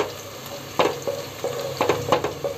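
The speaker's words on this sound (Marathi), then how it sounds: "अजून चांगलं जरा भाजायला हवं आहे. लसूण पण भाजायला हवी आहे." Spices and garlic roasting in a pan for a spicy Marathi crab curry, a steady sizzle and crackle broken by several sharp scraping stirs of a utensil against the pan.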